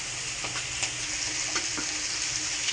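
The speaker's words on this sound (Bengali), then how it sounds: "ভাজা হচ্ছে, ভাজা নামিয়ে নিচ্ছি," Food fries in a pan with a soft, steady sizzle, broken by a few sharp clicks and stirring taps, close by and free of speech.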